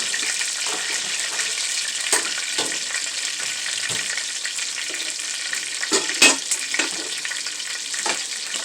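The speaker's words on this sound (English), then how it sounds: "Onions and peppers sweated the way I wanted it to." Onions and peppers sweating in a pan for a chicken stew with rice and cabbage give a steady, close frying sizzle with occasional brief stirring clicks and scrapes, no voices.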